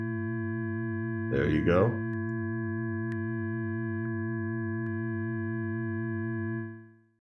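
A sustained tone from the Operator synthesizer in Ableton Live holds steady with a slight wobble, then a filter change partway through brings upper harmonics back in. Someone speaks briefly over it, and the tone fades out at the end.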